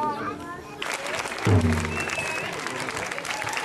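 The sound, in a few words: audience applause at a school performance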